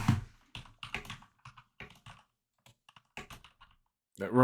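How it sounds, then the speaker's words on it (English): Typing on a computer keyboard angled awkwardly beside a microphone: close, irregular bursts of keystrokes separated by short pauses, ending in a louder flurry. "my mic's in the way of my keyboard. I'm typing at an odd angle"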